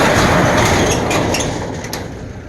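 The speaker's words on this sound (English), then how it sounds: "So, see if I can open the garage here. I dread opening this thing." Garage door at the home of a 1988 Ford Escort, heaving open with a loud, continuous grinding rumble that slowly fades over a couple of seconds.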